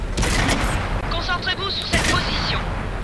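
Tank cannon fire in the World of Tanks video game, an AMX 13 75 light tank in a public match, with a couple of sharp booming shots among overlapping game sounds, close and loud.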